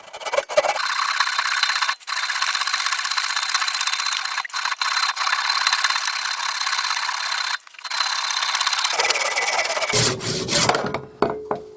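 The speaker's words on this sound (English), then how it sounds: "And with a handsaw, better come out a little bit further." A handsaw cuts through wood in a long run of steady, raspy back-and-forth strokes, loud and close, broken by a few short pauses before the final strokes.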